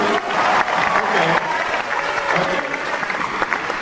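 A stand-up comedy audience in Jerusalem breaks into loud, dense applause, a sustained roar of many hands clapping with crowd noise, close and continuous from start to finish.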